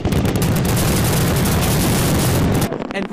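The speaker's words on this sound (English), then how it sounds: "Fireworks lighting up the night sky in cities across the state." Fireworks over New York State cities at night celebrate a COVID vaccination milestone in a loud, dense, continuous crackling barrage that drops off just before the end.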